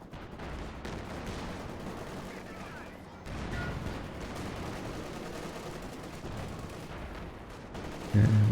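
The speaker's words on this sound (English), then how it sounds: "Nice support here with the strafing run from the US player" US strafing run in a multiplayer WWII strategy game, heard as dense, continuous battle noise with gunfire and rumbling impacts running throughout, fairly loud, with a louder burst near the end.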